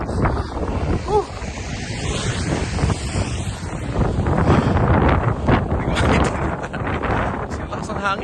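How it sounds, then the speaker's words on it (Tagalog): Strong wind from a record-breaking Toronto snowstorm buffets the microphone in loud, continuous gusts, with a voice speaking faintly underneath. "Kasi lakas ng hangin."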